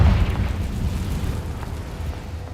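A spell blast from the Hogwarts Legacy video game, a heavy rumbling explosion that hits hardest at the onset and decays into a lingering low roar over a couple of seconds, with no voices.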